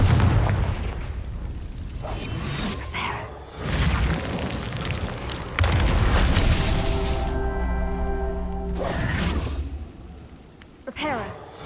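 Confringo fire spells cast in the Hogwarts Legacy video game burst as repeated loud booming explosions, each with a crackling, whooshing tail, separated by short lulls and closing with a bright magical chime.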